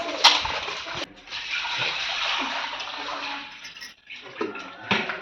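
Raw chicken pieces being washed by hand in a bowl of water for chicken pickle, a steady close sloshing and splashing with brief pauses and a few stronger splashes.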